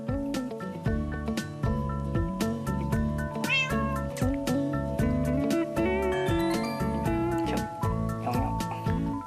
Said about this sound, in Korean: 몸을 한껏 웅크린 채 철통 경계 중인 고양이 발견!